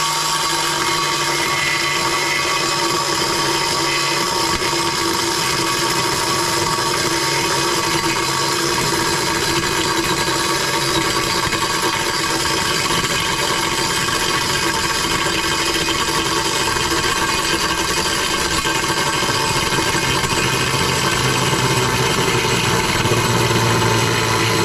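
A power tool grinds steadily at close range while cutting a round hole through ceramic wall tile for a mixer tap, holding one constant whining drone with no pauses for the whole stretch.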